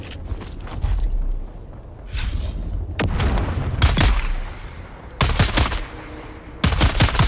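Dune Awakening gunfire rings out in loud, close bursts of rapid shots separated by brief pauses, with booming low-end weight and no voices over it.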